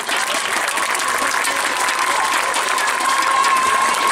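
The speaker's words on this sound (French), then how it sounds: "Un tonnerre d'applaudissements s'il vous plaît pour Eve." Steady, dense applause from a crowd at a women's horseball cup final in France, greeting a referee from Canada; continuous clapping fills the space with no pauses, fairly loud and uniform throughout.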